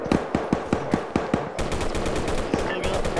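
Gunfire in a military video game as troops face civilians armed with baseball bats near a UN base: evenly spaced single shots give way to rapid sustained automatic bursts, loud and close.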